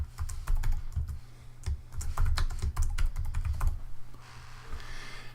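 A computer keyboard clatters close up as a name is typed in, a quick uneven run of key taps with short pauses, then quieter background.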